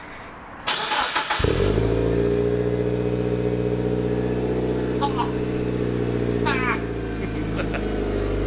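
A Mitsubishi Lancer Evo V cranks briefly, fires up and settles into a loud, rumbling idle with a couple of short revs, close to the microphone.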